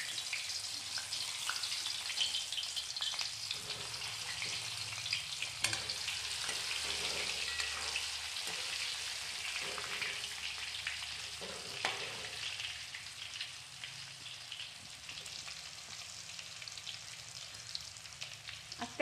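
Potatoes sizzle and fry in hot oil with mustard seeds, a steady close crackle that runs without break.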